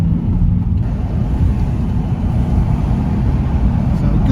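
Low, steady engine rumble from a Nissan 370Z, a 2000s Japanese sports car, heard from inside while driving, with continuous road and wind noise and no spoken voice.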